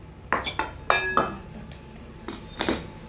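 Metal utensils clink against a kadhai while food is stirred, a handful of sharp separate ringing strikes spaced irregularly, close and fairly loud against a quiet background.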